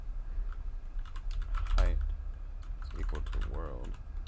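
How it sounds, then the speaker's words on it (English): Rapid, steady keystrokes on a computer keyboard as code is typed for an RPG game, close and continuous, with a couple of brief vocal sounds mixed in. "There's like zero reason I should be typing all of this out."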